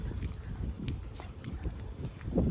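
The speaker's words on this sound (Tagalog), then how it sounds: "Mahangin tonight." Gusty wind rumbling and buffeting against the microphone, with faint scattered knocks and rustles in the background.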